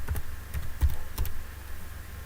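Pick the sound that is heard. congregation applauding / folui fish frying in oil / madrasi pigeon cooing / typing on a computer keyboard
typing on a computer keyboard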